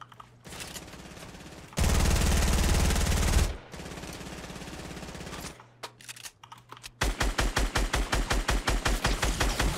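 Bursts of Fortnite gunfire, rapid automatic volleys and loud sustained sprays followed by a rhythmic string of sharp repeated shots, close and loud with short gaps between bursts.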